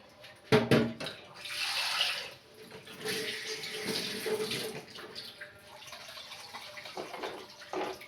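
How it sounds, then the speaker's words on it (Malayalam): Water poured into a simmering fish curry with ground masala paste, a close splashing gush with a sharp burst at the start, then settling into a steadier, fainter pour that trickles and drips as it eases off. "വെള്ളം കൂടി ഒഴിച്ച് കൊടുക്കുക."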